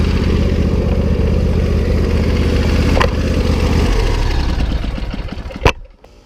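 A Husqvarna YTH22V46 yard tractor engine runs at a steady idle close by, holding an even throbbing drone before it slows, sputters and cuts out near the end.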